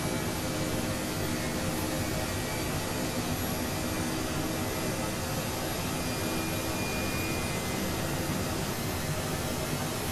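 Both turbine engines of an Mi-8 helicopter running in Microsoft Flight Simulator, a constant loud broadband roar and whine that holds steady throughout without variation or talk.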